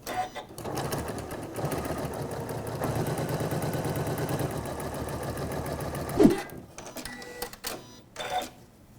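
A Janome sewing machine stitches fabric in one sustained, fast, even run for several seconds, then stops with a sharp click, followed by a few brief handling sounds.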